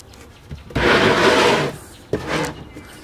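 A slide-out kitchen drawer in a Jeep Wrangler camper conversion runs out with a loud wooden rumbling slide, stops, then gives a shorter second sliding rub, close by with no talk.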